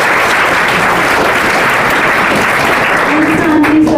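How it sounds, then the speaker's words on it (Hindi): Loud, dense applause from a crowd at a school farewell function, continuous and close, with a voice briefly rising near the end. "एक बार ताली बजा दीजिए थोड़ा जोर से।"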